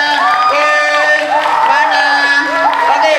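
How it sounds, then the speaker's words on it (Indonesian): A school audience applauds and cheers for the number 2 candidate pair at a student council election debate, with continuous loud crowd noise, whoops and shouting throughout. "Tepuk tangan dulu terhadap paslon nomor 2."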